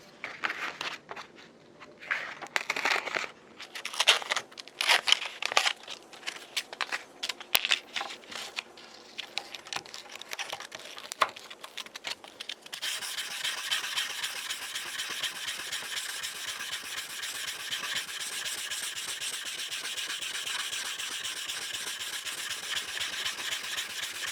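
Hand sanding with 240-grit sandpaper, a fine abrasive sheet rubbed back and forth over a surface, giving a soft, steady scratchy hiss that is patchy and stroke-by-stroke at first, then settles into a continuous even rubbing.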